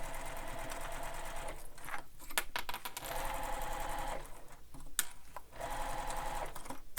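Sewing machine stitching mesh onto a backpack, running in bursts of rapid mechanical chatter separated by short pauses, close and fairly quiet.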